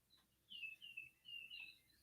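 Faint birdsong drifts in from the background outdoors in Stockton, California: thin, high whistled phrases and chirps repeating over a quiet backdrop, distant and soft.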